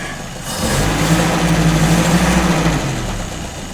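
Citroën Traction car engine idling steadily after a short quiet start, a low even mechanical hum with a faint tonal drone that stays level before easing slightly at the end.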